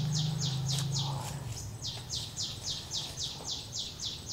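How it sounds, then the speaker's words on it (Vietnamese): A bird repeats a rapid series of high, even chirps near an abandoned villa, steady and fairly clear over a low hum, with a brief voice early on. "Ôi, con chim. Con gì đẹp dữ vậy?"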